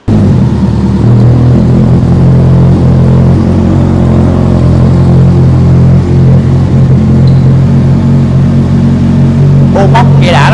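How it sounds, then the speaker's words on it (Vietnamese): Kawasaki Z800 motorcycle with an aftermarket exhaust revving close by, a loud, steady low engine rumble that keeps going, with voices talking over it. "Bô móc nghe đã lắm."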